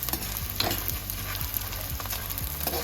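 Edible gum (gond) fries in hot ghee with a steady crackling sizzle, joined by occasional scraping strokes of stirring, close and continuous with no voices.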